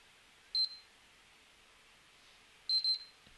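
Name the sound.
PS3 console beeping twice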